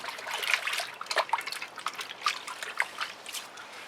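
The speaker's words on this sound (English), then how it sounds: "I'm going to rinse my hands off." Paint-covered hands get rinsed under a running tap after an acrylic pour painting session, with a soft steady trickle and irregular splashes close by.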